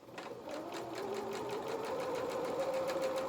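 Sewing machine stitching a felt donkey leg, a rapid, steady mechanical chatter close by that starts softly and holds even, with no talk.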